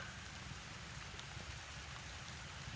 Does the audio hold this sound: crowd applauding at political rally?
no